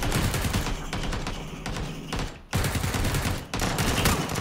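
Video-game gunfire rattles out in rapid bursts. Near, loud shots fill most of the span, with a brief lull just before a renewed volley and another short gap afterward.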